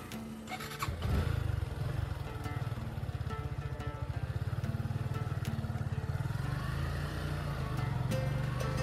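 Suzuki Gixxer FI ABS motorcycle being ridden, its engine thrumming in a steady rapid pulse close by after a brief rev at the start, with no talking.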